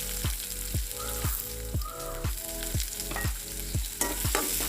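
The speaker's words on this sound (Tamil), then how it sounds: "கடுகு வெடித்ததும் அதில் ரம்பை பட்டை வெங்காயம் பச்சை மிளகாய் எல்லாத்தையும் போட்டு நல்லா வதங்க விடுவோம்" Sliced onion, green chilli, cinnamon and pandan leaf sautéing in hot oil with popped mustard seeds for egg gravy, a loud, constant sizzle broken by regular scraping stirs about every half second.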